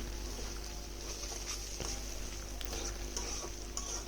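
Vegetables frying in oil for a noodle dish produce a faint, even sizzle throughout, broken by occasional soft ticks and pops from the pan.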